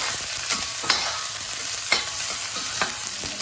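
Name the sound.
onion being sautéed in a pan with Kashmiri chilli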